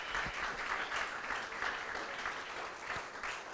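Steady audience applause at a city council campaign launch event in Johns Creek, a dense continuous wash of many hands clapping at even loudness throughout, with no voices on top.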